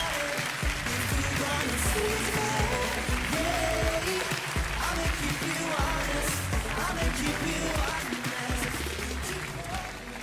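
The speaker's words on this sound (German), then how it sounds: "Dein Applaus." Steady, dense applause from a live audience at a Swiss Eurovision Song Contest 2018 selection show, clapping sustained for about ten seconds and tapering slightly toward the end, with faint voices mixed in.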